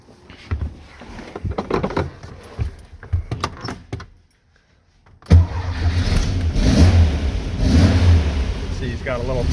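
A 1966 Volkswagen Beetle with a 1776cc engine: a few clicks and rattles, a brief silence, then the engine cranks and catches into a loud, steady, burbling idle close by that continues to the end.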